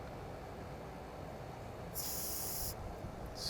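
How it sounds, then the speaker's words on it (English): A sharp hiss of spray paint into a small medicine bottle cap bursts out for under a second over a low background rumble, then a brief second spurt begins. "spray some paint into that cap"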